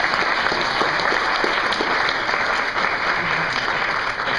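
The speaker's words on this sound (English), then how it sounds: "could we just please give them some applause for the work they've been doing for this year?" Sustained applause from a live audience at a premiere party presentation, honoring the show's entertainers; dense, steady clapping fills the whole stretch at close range without a break.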